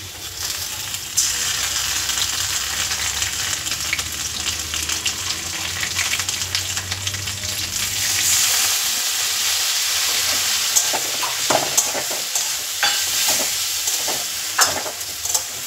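Ground coriander, cumin and ginger paste are sautéed with fried vegetables in a pan, a loud, continuous sizzle broken by repeated scraping and clinking of a stirring spoon.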